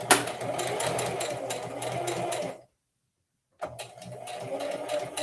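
A sewing machine backstitches at close range, whirring steadily for about two and a half seconds, stopping for a second, then starting again.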